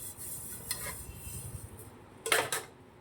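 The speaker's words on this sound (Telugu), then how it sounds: "తెలియని వాళ్ళకి నేర్పిస్తున్నాను గిన్నెలు ఇట్లా తోమాలని" Steel dishes and pots being scrubbed and washed in a sink, with scattered clinks and scraping rubs and a louder clatter of metal near the end, close by with no talking.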